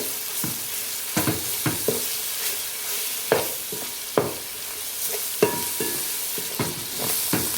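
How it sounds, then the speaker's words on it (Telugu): Ginger garlic paste frying in hot oil for a hotel-style chicken curry: a steady soft sizzle broken by repeated scraping stirs of a spoon against the pan, close and fairly quiet, with no voices. "ఈ అల్లం వెల్లుల్లి పేస్ట్ పచ్చి వాసన పోయేంత వరకు మంచిగా వేసుకోవాలి ఆయిల్లోనే"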